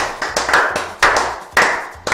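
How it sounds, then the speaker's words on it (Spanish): Scattered, sharp hand claps for Honduran Olimpia footballer Donis Escobar, about five distinct slaps spaced unevenly across two seconds, close and fairly loud with no voices. "Que se miren y que se escuchen un aplauso para"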